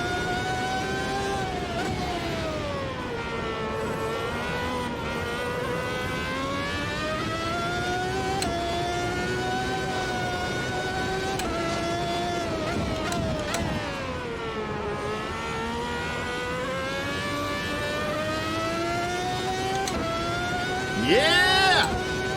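A high-revving race car engine in the racing game Automobilista 2 whines steadily, pitch rising and falling through gear shifts, with brief voices over it near the end.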